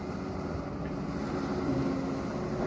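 A farm tractor engine idles steadily at moderate distance, a continuous low mechanical drone with faint harmonic whine and no voices.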